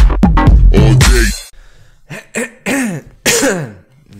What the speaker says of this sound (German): dieses blöde Husten